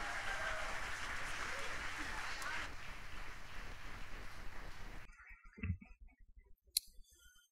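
Audience applause at a poetry slam welcoming a performer: dense, steady clapping from a sizeable crowd fills the first five seconds, then stops abruptly, leaving a few faint scattered sounds.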